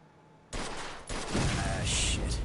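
Rapid bursts of gunfire in the video game Mafia II Definitive Edition, a sudden loud volley followed by sustained dense shooting that continues to the end.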